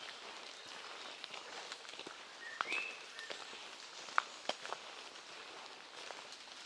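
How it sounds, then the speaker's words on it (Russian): Water drops fall from wet trees beside a path and patter sparsely and irregularly on leaves and the ground. The sound is faint and close, over a quiet outdoor hush, with a few sharper individual drips. "Это капли с деревьев."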